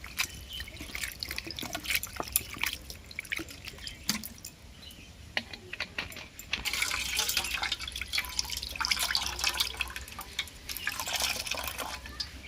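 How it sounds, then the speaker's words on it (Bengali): Chhana, or fresh cottage cheese, being rinsed with clean water to wash off vinegar: a steady patter of running and dripping water, splashing close by at moderate loudness, with no talk. "এই ছানাটাকে এবারে ভালো পরিষ্কার জল দিয়ে ধুয়ে নেব ভিনিগারের গন্ধটা চলে যাবে"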